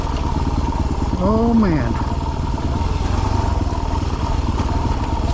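A dirt bike engine-brakes in first gear on a steep downhill on a Colorado mountain pass trail, giving a steady, close, rumbling drone throughout while a rider briefly speaks over it.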